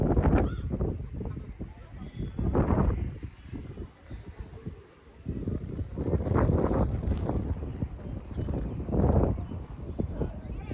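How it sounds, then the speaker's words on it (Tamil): Strong wind gusting across a hilltop at Panja Pandavar Malai near Arcot, heavy buffeting rumble in repeated surges that swell and ease, with people talking intermittently over it. "சூப்பராக காற்று வேறு அடிக்குது பாருங்கள்"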